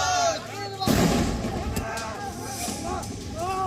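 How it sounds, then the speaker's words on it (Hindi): A sudden loud bomb blast bursts out near the start at a railway station in Murshidabad, West Bengal, followed by a lingering rumble and crowd noise with voices shouting. "एक जोरदार धमाका हुआ।"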